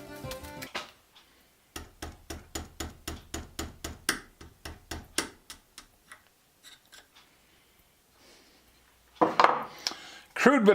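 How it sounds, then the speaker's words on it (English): Small metallic taps drive a tiny pin out of a watch band using a broken drill bit as a pin driver, a close, rapid series of a dozen or so sharp clicks, then quiet, then a few louder scraping knocks. "I used the broken drill bit as a pin driver and knocked out the last of that little pin."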